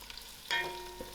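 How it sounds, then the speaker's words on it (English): Carrots frying in a pan for a vegetable korma, a soft steady sizzle that jumps louder midway as the pan is stirred, with a light clank near the end; no talking. "I'm going to add in my carrots to allow this to fry"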